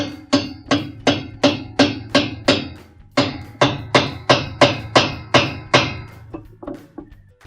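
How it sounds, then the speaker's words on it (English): A wrench tightening a spanner nut on a washing machine agitator makes a steady series of sharp metallic clicks, about a dozen evenly spaced, with a short pause midway, close and clear. "We'll grab our wrench and tighten it clockwise."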